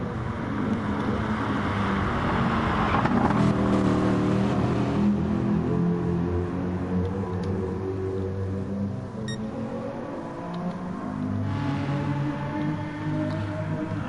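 Racing car engines, including a BMW, in a sim racing video game, a steady drone of revving motors with rising and falling pitch as cars pass.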